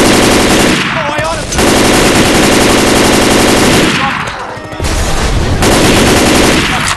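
Heavy automatic gunfire from the zombie shooter Left 4 Dead 2 hammers on in loud sustained bursts, broken by two short lulls, with a faint voice now and then beneath the shooting.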